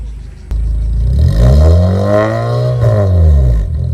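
A parked Honda City GN fitted with a Kakimoto GTBOX 06&S muffler is revved to about 3,000 RPM, the exhaust note swelling into a loud, droning roar, holding briefly, then falling back to idle.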